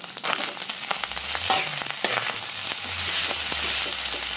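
Nasi goreng with petai sizzles loudly in a hot pan while being stirred, steady frying hiss with scraping and clinking as the spatula turns the rice, close and continuous.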